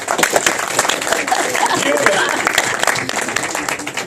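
Theater audience at a stage production of "It's a Wonderful Life" breaks into dense, loud applause on cue from an applause sign, sustained clapping filling the room throughout.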